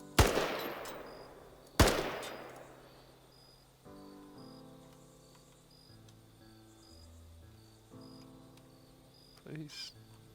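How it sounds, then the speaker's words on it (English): Two sharp, loud gunshots about two seconds apart, each ringing off in a long decaying tail, from a noisy gun in an ArmA 3 Chernarus Ravage zombie mission. Quieter tonal game sounds and beeps follow. "It's a much noisier gun."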